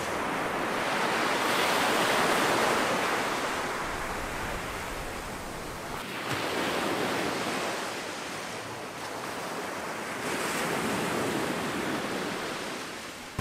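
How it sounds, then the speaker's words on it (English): Ocean waves wash onto a beach near Cancún, Mexico, a loud, steady hiss of surf that swells in broad surges every few seconds, with no voices present. "here's a soothing little short video of ocean sounds and the ocean."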